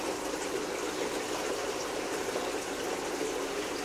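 Water is pushed into a pike roe hatching jar at a hatchery, making a steady, rushing, bubbling flow that stays constant and fairly close, with no talk.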